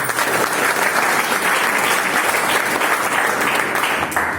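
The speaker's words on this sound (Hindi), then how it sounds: "प्रताप सर के लिए एक बार ताली बजाइए" Audience applause at a gathering, a dense, steady wash of clapping from many hands that holds at full strength throughout without pause.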